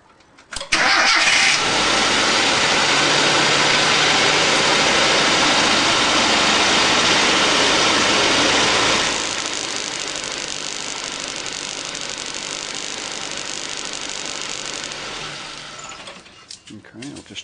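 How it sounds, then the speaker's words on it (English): A car engine cranks and catches, then runs in a loud steady drone that drops to a quieter even idle partway through before cutting out near the end. "So I'll start the motor and get it going."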